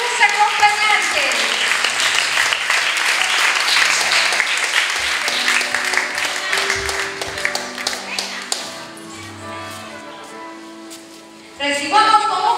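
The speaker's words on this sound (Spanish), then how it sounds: "Recibámosla con un fuerte aplauso a la quinceañera y a sus acompañantes" Applause and clapping from a crowd welcoming the quinceañera at her fifteenth birthday celebration, a dense, steady patter at first that thins out as music and background voices take over.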